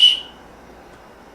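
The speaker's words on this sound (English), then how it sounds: "A whistle. It's a steel whistle." A steel whistle from a first aid kit gives one short, shrill blast that cuts off quickly, followed by near silence.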